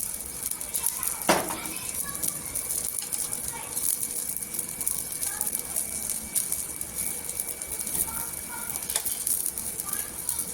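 Besan-battered bread toast fries in a film of oil on a pan, a steady sizzle running throughout with occasional clinks of a utensil against the pan.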